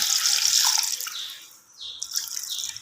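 Water splashes into a pressure cooker pot while aloo gosht mutton curry is made, a bright gurgling pour that pauses briefly and then resumes, close and moderately loud, with no voices.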